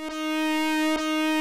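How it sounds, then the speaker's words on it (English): A saxophone-like software instrument in Ableton Live sounds a steady, reedy sustained note with a sharp attack, briefly broken by a click near the end, loud and with no voices. "We've got a saxophone-ish,"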